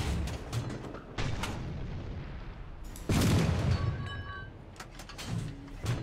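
A Comet tank's cannon in War Thunder ground battles, firing a single heavy boom midway through, set among mechanical clatter and rumble from the tank.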